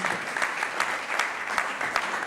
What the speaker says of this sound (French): Applaudissons pour Jésus en remerciant le pasteur Megui